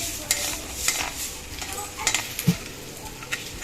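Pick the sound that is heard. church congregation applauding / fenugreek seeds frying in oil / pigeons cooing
fenugreek seeds frying in oil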